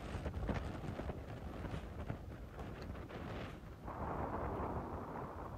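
Gusty wind on a golf course buffets the microphone with low rumbling roars, swelling and easing throughout, fairly quiet overall with no voices.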